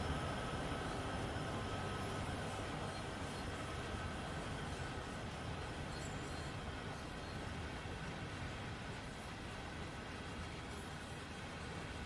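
A Union Pacific heritage train climbs Sherman Hill in Train Sim World 3. Its locomotive makes a continuous, even, heavy rumble under hard load, steady for the whole stretch with no talking.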